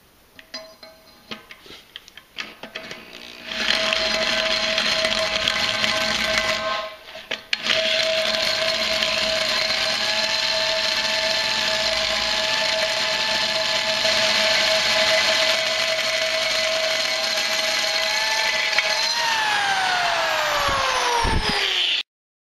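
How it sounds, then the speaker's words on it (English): A hole saw on a drill cuts a ridge out of a throttle body for a 68mm throttle body install on a 4.0 Jeep. The sustained loud whine runs with a brief pause, then the pitch sweeps as it winds down. "we're going to take the hole saw and we'll just be able to place it right in here on a drill and then cut out this ridge we got here"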